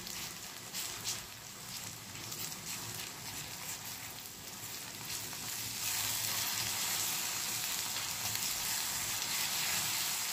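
Egg frying in a pan with a steady, close sizzle and crackle that grows slightly louder and denser partway through as it is stirred, with no talking.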